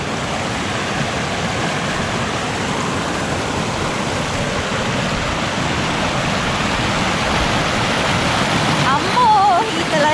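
A stream of cold water pours into a lake near an off-grid cabin in New Zealand. It makes a loud, steady rushing wash close by, with a brief faint whistle near the end.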